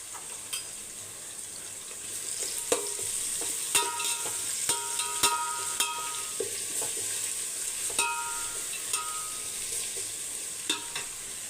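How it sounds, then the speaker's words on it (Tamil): Whole spices dry-roasting in a hot pan on low heat for chicken 65 biryani, a steady soft sizzle with frequent clicks and scrapes of stirring, no voices. "கொஞ்சம் வானலி சூடு பண்ணிவிட்டு சிம்மில் வச்சு நல்லா நெடி வரும் பாருங்கள், அந்த ஸ்டேஜ் வரைக்கும் நம்ம வறுத்து எடுத்துக்கணும்"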